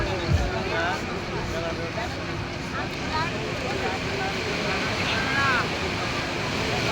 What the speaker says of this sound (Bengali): সমুদ্রের ঢেউ একেবারে কিনারে এসে আপচে পড়ছে।